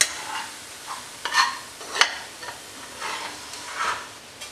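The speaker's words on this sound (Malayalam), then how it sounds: "ഇഞ്ചി ഇവിടെ നല്ലതുപോലെ മൂത്ത് വന്നിട്ടുണ്ട്" Ginger pieces frying in hot oil in a pan for a Kerala sadya puli inji, a soft continuous sizzle broken by several sharp scraping stirs of a spoon against the pan.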